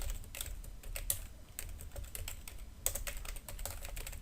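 Rapid, steady typing on a computer keyboard, close and continuous clatter of keystrokes with no talking.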